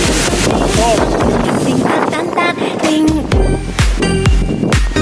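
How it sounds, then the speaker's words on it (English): Loud, gusty wind with rain buffets the microphone throughout, with scattered knocks and bumps and faint voices mixed under the roar. "it's raining and windy!"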